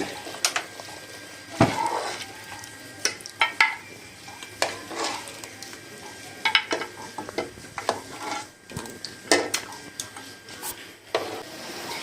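Chicken curry with garam masala being stirred in a pot, irregular scraping and knocking of a spoon against metal over a low sizzle, close by, with no voice.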